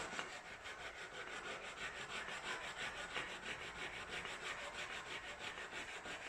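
A kitchen knife being stab sharpened on a whetstone, producing a steady, rhythmic grinding of blade on stone in quick, even back-and-forth strokes, close and continuous with no talking.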